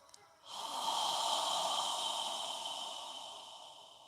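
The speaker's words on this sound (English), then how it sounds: "So we're going to inhale through our nose and exhale through our mouth." A single long, steady breath rushes through the nose close to the listener, lasting several seconds before slowly fading, with no talking.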